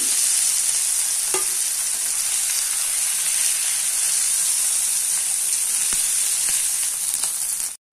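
Mushrooms frying in hot oil in a pan, a loud steady sizzling hiss that carries on with a few faint utensil taps before cutting off abruptly.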